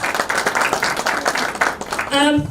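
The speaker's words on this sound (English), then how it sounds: "please give a big round of applause to Chanakya and Teja" An audience at a conference meet applauds, a fairly loud, steady patter of clapping that fills most of the short stretch before a voice takes over at the end.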